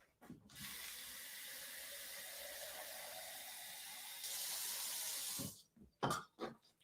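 Sprouted chickpeas rinsed under a running kitchen tap, a steady close hiss of flowing water that grows louder partway through, then cuts off and gives way to a few soft clunks and splashes.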